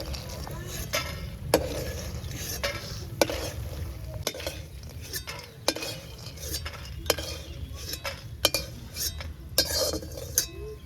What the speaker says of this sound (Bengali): বড়িগুলো লাল লাল করে ভেজে এখন তুলে রাখবে